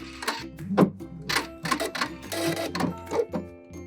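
Sewing machine zigzag stitching and back stitching the end of a piece of fabric, close, uneven bursts of mechanical clatter and whir that start and stop in quick succession.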